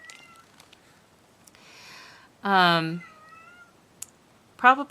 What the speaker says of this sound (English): every time I start to talk, she starts to meow